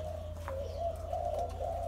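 A Malaysian spotted dove imported from Malaysia coos in a low, steady drawn-out call at a bird farm, close and clear over a constant low hum, with no talk.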